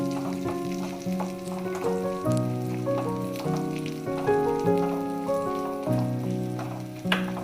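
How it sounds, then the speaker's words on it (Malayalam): Shallots, cashews and raisins frying in oil in a pan, a continuous close crackling sizzle with occasional stirring clatter, heard alone throughout. "ചെറിയ ഉള്ളിയും കാഷ്യൂനട്ടും നന്നായിട്ട് ഫ്രൈ ആയിട്ടുണ്ട്. ഈ ടൈമിൽ നമുക്കിതിലേക്ക് കിസ്മിസ് ചേർത്ത് കൊടുക്കാം."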